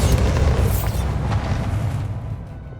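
Bombarda spell explosion in Hogwarts Legacy, a single loud close boom with a rumbling tail that slowly fades over a few seconds.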